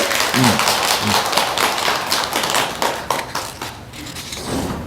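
An audience at a Buddhist dharma talk applauds steadily, dense clapping filling the clip, with a few scattered voices underneath.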